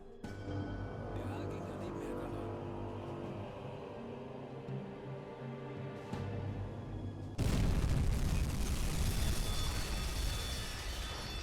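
In the submarine video game UBOAT, a torpedo strikes a ship, giving a sudden heavy, rumbling boom that swells into a sustained loud roar after a stretch of steady engine-like drone, with no voice over it.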